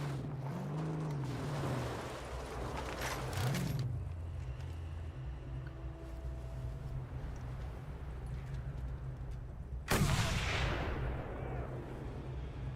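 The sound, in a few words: sniper gunfire in a video game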